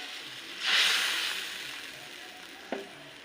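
A ready-made spice paste is poured into hot oil in a pan, giving a sudden loud hiss that slowly fades to a soft sizzle, followed by a single sharp clink of a utensil near the end.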